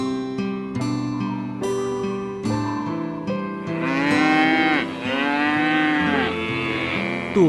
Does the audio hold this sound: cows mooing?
yes